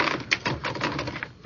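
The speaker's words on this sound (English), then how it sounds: "Take over this typewriter" Rapid typewriter keystrokes clatter in a quick, irregular burst, close and fairly loud, with a few sharper strikes standing out amid the steady tapping.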